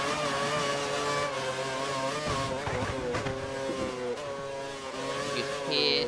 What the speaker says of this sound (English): You can hear the McLaren behind the TRL Button